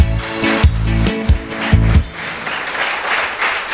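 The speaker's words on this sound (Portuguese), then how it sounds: "Dê uma salva de palmas ao Senhor Jesus" A church congregation claps in applause, a dense burst of many hands that swells and fades over a few seconds, mixed with loud musical tones at the start and no clear talk.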